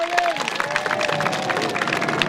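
Audience applause at a Civil War-themed event in Wigan, dense steady clapping from a crowd, fairly loud and continuous, with a few tonal sounds and some voices mixed in.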